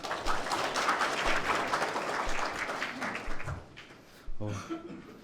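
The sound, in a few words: audience applause for a seminar presenter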